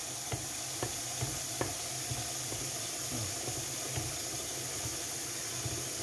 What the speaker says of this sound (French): je suis en train de remplir l'évier à côté avec de l'eau froide